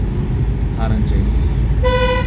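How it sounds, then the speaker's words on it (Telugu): During a driving lesson, a car horn gives one short, sharp honk near the end, over steady engine and road noise, with a voice heard in the car. "హారన్ చేయండి"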